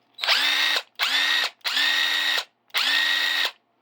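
Mac Tools cordless high-torque power tool running in four bursts of about half a second to a second each, a whining motor with a brief pitch rise at each start, loud and close, separated by short silences.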